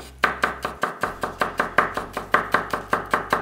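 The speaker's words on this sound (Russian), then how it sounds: "Мелко нарезаем маленький зубчик чеснока." A small garlic clove being finely chopped with a knife, rapid, even board taps repeating about fifteen times up close, alone with no speech.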